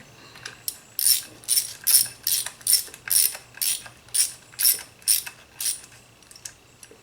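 A ratchet tightens the bolts of a Felpro BS 40656 rear main engine seal in about a dozen quick, evenly spaced clicking bursts, close and clear with no talking.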